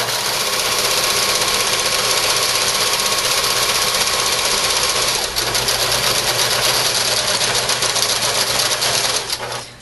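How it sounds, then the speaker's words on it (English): A sewing machine runs steadily, stitching both side seams of a fabric shopping bag, a continuous close mechanical whir with a rapid even rhythm lasting most of the stretch before stopping near the end. "just sew both sides all the way up"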